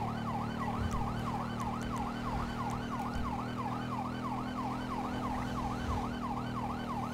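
Police motorcycle siren from Grand Theft Auto 5, a rapid repeating wail rising and falling steadily over a constant engine hum, close and loud for the full stretch, with faint ticking clicks scattered early on.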